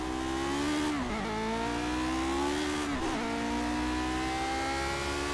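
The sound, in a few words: Lotus 49 race car engine in video game Project Cars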